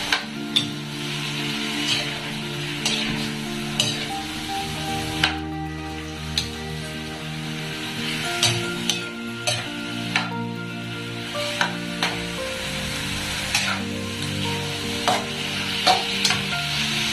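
Chicken curry, the chicken soaked in fish sauce, is stirred in a sizzling pan, with a utensil knocking the pan in a regular rhythm over a constant close frying crackle.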